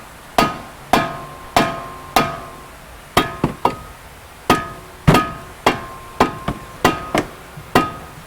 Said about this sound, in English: Just take a rubber mallet and give the rotor a whack, loosen it up.